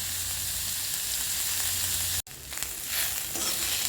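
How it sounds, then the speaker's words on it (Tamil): Tomatoes sauté in a pan over onions, curry leaves and green chillies for crab masala, a continuous close sizzle that cuts out for an instant, then resumes with bubbling and light stirring. "தக்காளி போட்டு நல்லா வதக்கணும்"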